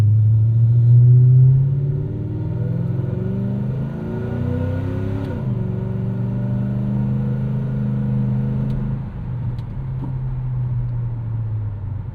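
A 2003 Mercury Marauder V8 sedan with stainless long-tube headers and a catback exhaust, loud and close, rumbling deeply, revving up and settling back to a steady drone, then dropping to a lower idle near the end.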